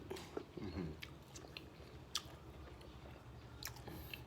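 Close, quiet crunching and chewing of roasted earthstar mushrooms, crunchy outside and soft inside, with soft crisp bites and wet mouth sounds, no talking.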